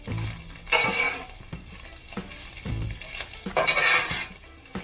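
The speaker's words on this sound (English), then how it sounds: "Now we can go ahead and mix all that meat into it." A metal spatula scrapes and clanks on a Blackstone flat-top griddle as meat is mixed into Spam fried rice, with repeated sharp scraping strokes over a light sizzle, close and fairly loud, with no talking.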